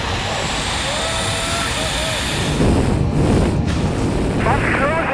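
A jetpack's jet engines roar loudly and steadily as the flyer passes overhead at about 174 mph, a broad rushing drone swelling slightly in the second half, with faint voices underneath.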